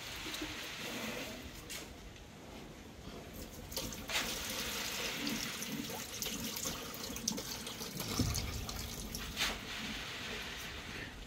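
Water runs steadily from a tap on a goat farm for a goat to drink, a soft continuous splashing flow with occasional louder spatters and faint background sounds.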